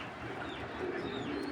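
A male racing pigeon coos softly nearby, low throaty calls murmuring over quiet background noise with no talking.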